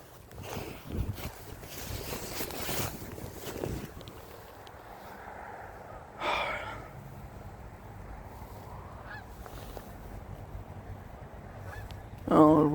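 Geese honk out of doors with wind buffeting the microphone, the calls scattered and fairly distant, with one louder burst of honking near the end.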